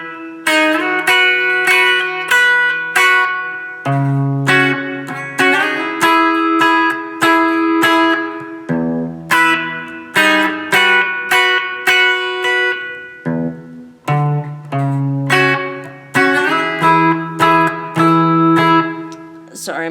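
Guitar strums and picks the chords of a song in E, in a steady rhythmic pattern of bright, close chords played alone.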